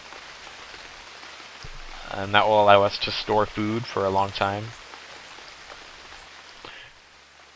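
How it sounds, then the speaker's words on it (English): Steady rain from the video game Unreal World hisses in the background throughout, continuing under a man's speech. "This rain's very loud."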